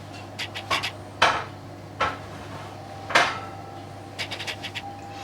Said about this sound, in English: we're going to use a spatula to try and tease it off